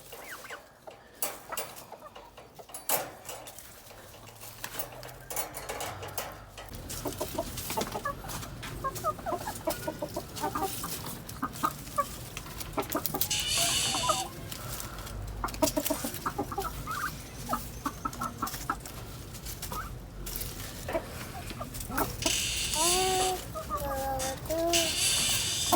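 Chickens cluck and squawk in a barnyard over steady background noise, with a couple of sharp overlapping calls near the end and a person speaking briefly at the start.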